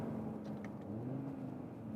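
A 2021 Audi RSQ3 Sportback with a 400 hp five-cylinder engine drones and hums steadily while driving, heard from inside the cabin as a low, moderately quiet rumble with slight pitch shifts.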